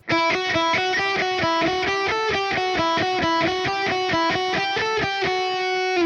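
Electric guitar picks a fast, even run of single notes up and down a scale, each note clearly articulated in a steady rhythm.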